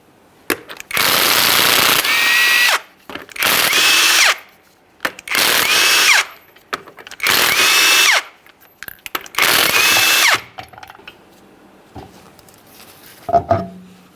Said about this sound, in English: To remove the rear wheels, remove each of your 22mm lug nuts and remove the wheel.